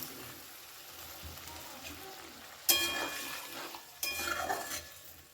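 Vegetables for shukto are stirred with spices in a pan, and water is added. Quiet, steady frying is broken by two sharp, louder sizzles as the water hits the hot pan.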